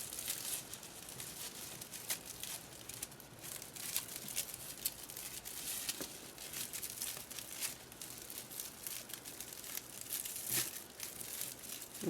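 Close, continuous crinkling and rustling as stiff deco mesh is scrunched and handled, with irregular crackly bursts throughout.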